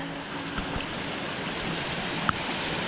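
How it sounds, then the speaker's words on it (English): Small mountain creek in a forest running downhill, a steady broadband rush of flowing water held at even level throughout, with a faint knock or two near the middle. "Super adorable creek that runs all the way down"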